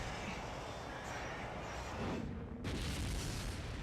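A catapult launched against the Tyrant boss in the video game Resident Evil Code Veronica X gives a single loud boom, with a dense rumbling wash before and after a brief dip.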